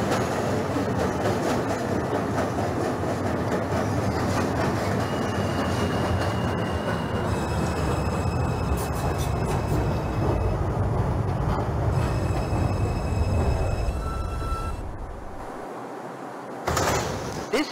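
A New York subway 2 local train in the OpenBVE simulator game, running with a steady close rumble, rhythmic wheel clatter and squealing tones, then easing off toward the end.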